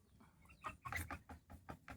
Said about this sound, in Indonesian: Nah, ini adalah ayam saya. Ini silangan antara ayam Pama dan Saigon.